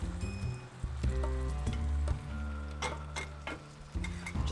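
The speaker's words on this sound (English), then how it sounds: "going to spoon all of this curry mixture into the pan. I have about 4 tablespoons of vegetable oil in the bottom." Curry mixture frying in about four tablespoons of vegetable oil in a pan, a close sizzle with spoon scrapes and clinks on the pan and a low hum beneath.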